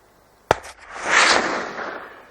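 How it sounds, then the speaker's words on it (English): A single sharp rifle shot on a deer hunt in a New Zealand national park, one loud crack followed by a long rolling echo that fades across open terrain. "A second shot kills the young male instantly"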